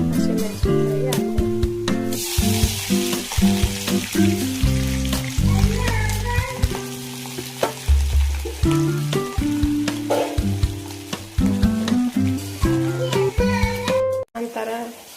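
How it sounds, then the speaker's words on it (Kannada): Garlic and green chillies frying in hot oil, a steady close sizzle heard beneath constant musical tones throughout, with no speech heard. "ಅದಕ್ಕೆ ಬೆಳ್ಳುಳ್ಳಿಯನ್ನು ಸೇರಿಸೋಣ. ಆನಂತರ ಕೆಂಪಾಗಲು ಹಸಿಮೆಣಸಿನಕಾಯಿ ಹಾಕೋಣ."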